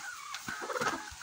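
Kelso gamefowl in a backyard breeding pen give a brief burst of soft clucks and throaty calls, close by and moderately quiet.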